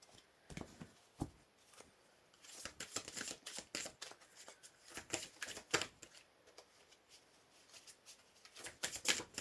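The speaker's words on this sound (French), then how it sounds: "On va tirer une carte." Oracle cards being shuffled and drawn during a tarot-style reading, a run of quick papery riffles and flicks in close, irregular bursts across the clip, with no talk.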